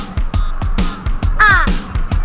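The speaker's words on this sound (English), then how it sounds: "Kid don't like crows, does he? Hey, crow. You are huge." A large crow in Yoyogi Park, Tokyo, caws loudly and close by, giving a run of harsh, evenly spaced calls over about two seconds with no other sound competing.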